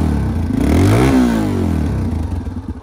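A Yamaha TTR 230 motorcycle with its stock exhaust revs up loudly nearby, the engine note climbing and falling through a throttle blip before settling back to a steady, slightly clattery idle.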